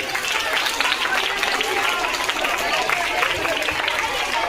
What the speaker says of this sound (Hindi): बाकी सब बच्चे अपने लिए अपनी तालियां बजाइए जिन्होंने साल भर मेहनत की।